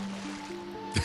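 A short watery splash as a character is thrown into water in Zelda: Triforce Heroes, one brief wet burst near the end over soft sustained game music tones.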